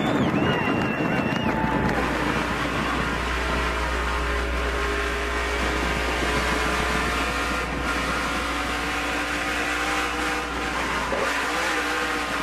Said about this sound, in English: You could hear the rear tire spinning.